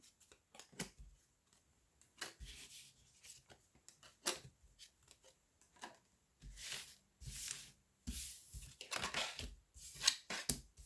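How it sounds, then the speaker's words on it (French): Tarot cards drawn one after another from a deck, nine in all: repeated dry papery slides and flicks, close and fairly quiet, coming in irregular bursts with short pauses between them and no talking. "alors je tire encore 9 cartes"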